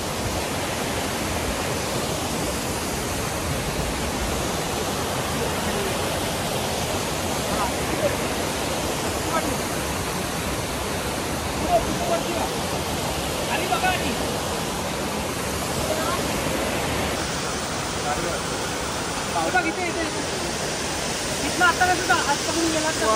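A waterfall at a hidden outdoor spot chosen for a pre-wedding photo shoot pours out a loud, unbroken roar of rushing water that stays steady and close for more than twenty seconds.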